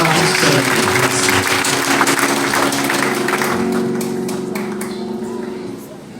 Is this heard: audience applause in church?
yes